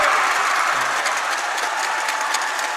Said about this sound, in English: The Nanyang crowd is really loud right here, right in front of us